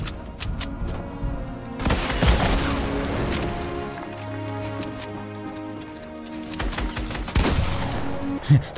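A shotgun in Fortnite: a few heavy booming blasts, one early and a pair near the end, stand over a steady bed of game noise and music.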